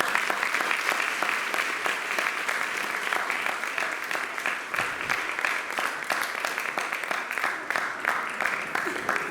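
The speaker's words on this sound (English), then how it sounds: "So another round of applause, please." A gathering at a Swami birthday celebration in Bradford breaks into sustained applause, dense and close, with a few louder individual claps standing out.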